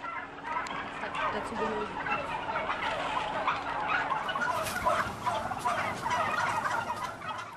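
Turkeys gobble in a crowded poultry farm building, many birds calling at once in overlapping bursts against the constant din of the flock.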